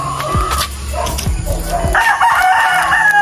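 Gamefowl breeder rooster crowing loudly and close, one long strained crow near the end after some clucking and scuffling noises, with no talk.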